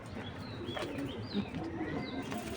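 Racing pigeons at a pigeon farm coo softly and repeatedly at close range, several birds overlapping in low murmuring calls with light chirps.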